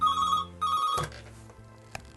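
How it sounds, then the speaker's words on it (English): A telephone bell rings loudly in two bursts, a brief pause between them, then cuts off abruptly, leaving quiet room sound with a faint click near the end. "And then when the phone rings, I just want to grab it quick."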